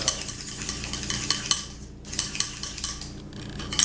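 Egg being whisked into white chocolate cake batter in a bowl, quick rhythmic scraping and tapping strokes, close and moderately loud, with a brief pause midway and no voices.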